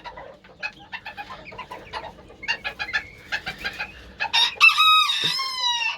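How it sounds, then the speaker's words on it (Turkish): A rooster crows loudly and close, preceded by a run of clucking and chattering calls from nearby fowl. "İnanılmaz bir horoz."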